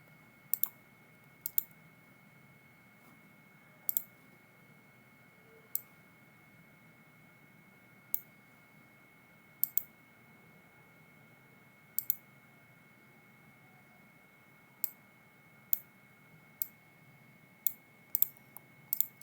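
A computer mouse clicks sharply about twenty times, sometimes singly and sometimes in quick pairs at irregular intervals, during right-click copy and paste, set against a quiet room hum.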